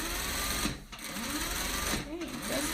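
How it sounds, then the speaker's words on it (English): A sewing machine stitches the edge of an apron in short bursts, the whirring pausing briefly and starting again, while someone talks over it. "I'm gonna go ahead to my sewing machine and put a stitch in that"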